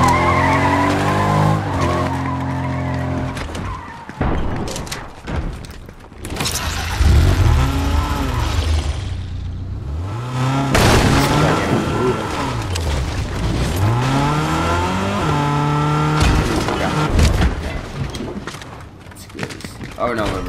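A car in Fortnite with a shot-out tire, skidding and revving loudly with screeching tire squeals and engine whine rising and falling, close and under excited talking.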